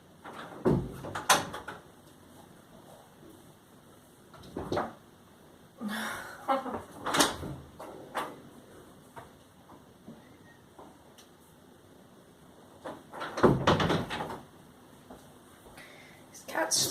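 Door opened and closed indoors to let cats in or out, several faint thumps, clicks and rattles spread out with quiet gaps, heard at a distance in a quiet room.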